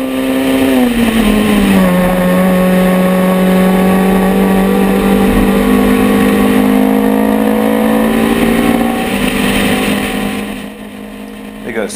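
Racing cars lapping a circuit in an amateur race, with loud, continuous engine drone from a close in-car perspective, pitch sweeping through gear changes as other cars are passed; a voice comments over the engine noise.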